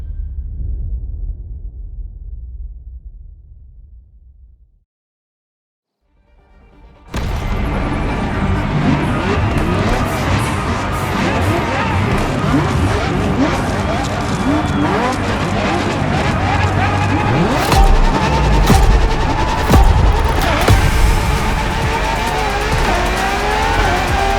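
Ferrari LaFerrari hybrid supercar in the racing game The Crew Motorfest: after a fade to silence, a loud continuous engine roar with shifting revs and tire noise runs steadily to the end.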